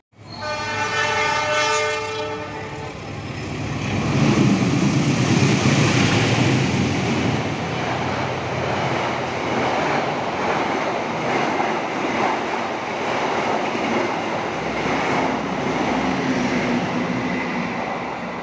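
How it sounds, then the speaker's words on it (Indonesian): The KA Bengawan train pulls into Klaten station in Indonesia, opening with a loud blast of its horn and then a long, steady rumble and clatter of the locomotive and carriages passing close by. "bisa kita lihat KA Bengawan datang duluan"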